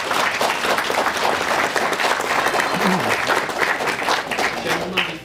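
A Wales Comic Con crowd claps at the close of a panel, a dense, continuous patter of many hands at close range, with a brief voice briefly audible in the middle of it.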